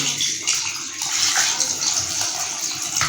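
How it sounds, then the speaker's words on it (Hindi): Water from a tap gushing steadily into a bowl of salted chicken pieces, a loud continuous splashing pour lasting the whole moment. "साथ ही एक जगह हम पानी का इसमें ऐड कर देते हैं व्यूअर्स"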